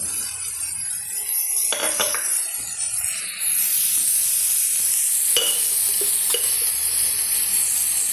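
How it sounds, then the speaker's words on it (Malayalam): Onions, banana flower and green chilli for thoran fry in a pan with salt, giving a hissing sizzle that grows louder midway, while a spoon scrapes and clinks as it stirs, close and with no talking. "നമ്മളിങ്ങനെ ഒന്ന് ഇളക്കിക്കൊണ്ടിരിക്കുക"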